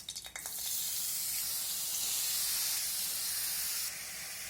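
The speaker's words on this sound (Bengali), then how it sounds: "নিংড়ে নিংড়ে আমি কড়াইয়ের মধ্যে চিচিঙ্গাগুলো দিয়ে দেবো" Snake gourd pieces, salted and squeezed, sizzle in hot oil in a wok, a loud continuous frying hiss that flares up as they go in and stays steady, with no talk.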